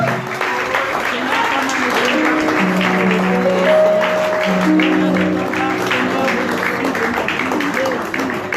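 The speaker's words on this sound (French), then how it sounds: "Est-ce que quelqu'un peut acclamer le Seigneur?" A church congregation applauds and cheers during a worship service, with steady, dense clapping filling the room and music or voices sustained underneath throughout.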